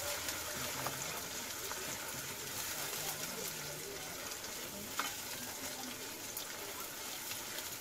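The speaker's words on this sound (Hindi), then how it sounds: "अब इसमें हम डालेंगे कटा हुआ कांदा और अच्छे से मिक्स कर लेंगे कांदे को तेल में।" Chopped onions stir-fried in hot oil for a liver and meat curry, with a steady broadband sizzle and occasional scraping of the spoon throughout, close and continuous.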